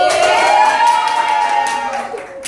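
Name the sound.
classroom applause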